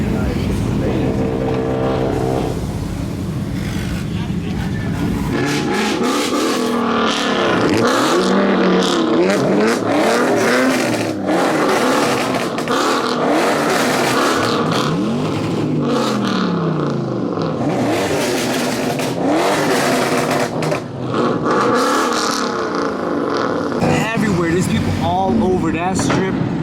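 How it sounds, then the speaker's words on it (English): Cars rev and rumble along a crowded strip at night, engines rising and falling repeatedly nearby in a continuous dense roar, with voices talking over the traffic. "Cars is going nuts right now."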